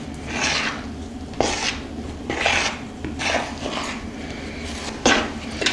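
A spoon stirs stiff, flour-thickened sweet bun dough in a bowl, scraping and thumping in repeated strokes about once a second, close and steady with no talk.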